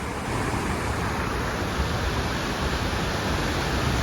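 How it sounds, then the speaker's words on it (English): The Cascade River rushes beneath a bridge on its way into Lake Superior, making a steady, full, hissing roar of flowing water. The sound stays close and constant throughout, with no voices. "This river flows into Lake Superior."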